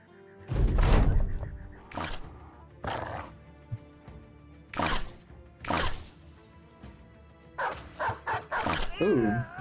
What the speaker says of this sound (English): dog breaks him